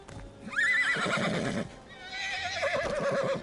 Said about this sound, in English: White Knight Charger. This is a real plain looking horse though.